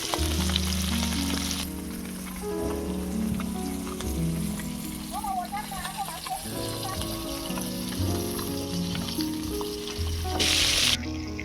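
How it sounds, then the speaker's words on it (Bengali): Fish fry in hot oil for a fish curry with broad beans, giving a constant sizzle and crackle at moderate volume, with soft scraping and a few clinks of cookware over it and no talk. "এবারে মাছটা ভেজে নেব"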